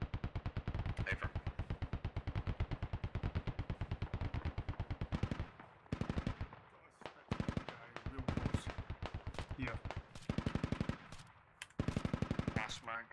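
Long bursts of sustained machine gun suppressing fire in the video game Squad, rapid evenly spaced shots hammering almost continuously, then breaking into shorter volleys with brief pauses, loud and close.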